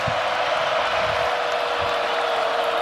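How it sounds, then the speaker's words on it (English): A packed stadium crowd roars at a Clemson versus NC State college football game, a loud, steady wall of noise with no breaks or distinct voices. "The crowd is loud"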